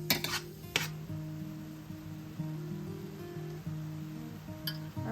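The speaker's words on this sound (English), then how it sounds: "I am sauteing them pretty well, making sure that all of the mushrooms are browning" Mushrooms browning in butter in a pan over high heat, with a steady soft sizzle and a metal utensil clinking and scraping against the pan now and then.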